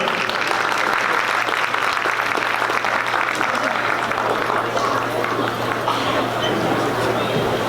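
An audience at the opening ceremony of an annual New Year celebration applauds steadily through the whole stretch, clapping dense and fairly close, with a low hum underneath and voices mixed in.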